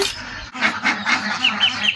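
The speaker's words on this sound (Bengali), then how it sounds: "এই যে হাঁসের ঘরের ভিতরে হাঁস প্যাক প্যাক করতেছে" Ducks quack and honk inside a duck house at a village home, a close, busy run of repeated nasal calls overlapping one another with no one speaking.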